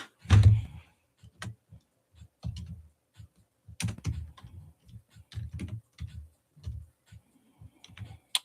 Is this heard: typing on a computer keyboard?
yes